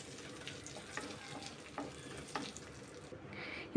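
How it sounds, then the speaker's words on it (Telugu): Cumin seeds frying in hot oil in a pan for jeera rice, a quiet close crackle and sizzle with scattered pops and light stirring, no voices. "ఈ జీరా అంతా వేగిపోవాలి."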